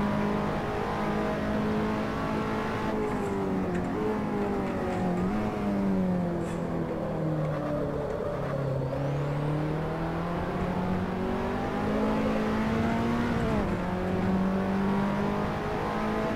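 A race car in Assetto Corsa laps a track, its engine droning loud and continuous with pitch rising and falling through gear changes, braking and acceleration, no voices over it.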